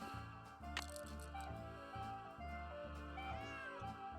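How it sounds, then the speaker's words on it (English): A cat meows in a Nancy Drew video game, a short cry rising over steady looping game music with a rhythmic low beat throughout. "Otherwise, he'll just keep meowing."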